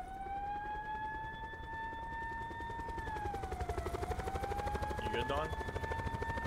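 A helicopter in a hot-pursuit video game drones with a steady whine that dips in pitch midway, alongside a siren-like tone and rapid thumping, while players talk over it.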